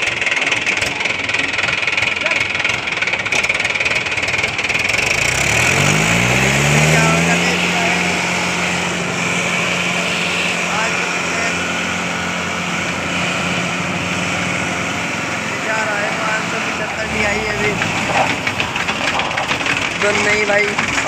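A Mahindra tractor engine, a 575 or 585 model, runs steadily in a tochan pulling contest, loud and close, rising in pitch as it revs up midway and then settling back, with people talking throughout.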